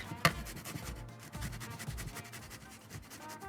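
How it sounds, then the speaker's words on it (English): Garlic being grated on a grater, a quiet run of rapid rubbing scrapes with a sharp tap near the start, close by and heard alone with no talk. "now we're going to grate in lots of garlic"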